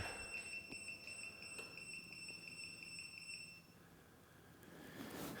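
Innovv motorcycle blind spot detector sounding its alert: a steady high electronic beep tone held for several seconds before cutting off, moderately loud over a faint room background.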